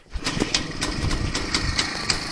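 An IZh-56 motorcycle with a sidecar, just started with its kick lever and decompressor, putters close by in a quick, even rhythm of engine pulses.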